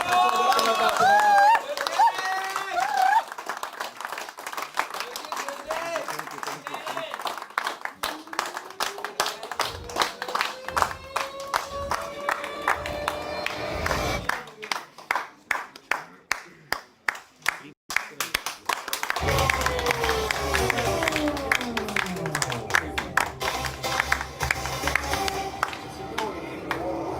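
Audience clapping at a company launch program in Bhubaneswar, a dense burst of applause around a host's speech, with broken patches and a later swell of crowd noise and voices.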